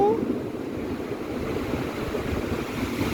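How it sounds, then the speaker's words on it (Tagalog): Large ocean waves break and wash continuously along a seashore, a steady rushing surf roar mixed with wind buffeting the microphone. "Wala, ang lalaki na ng mga alon"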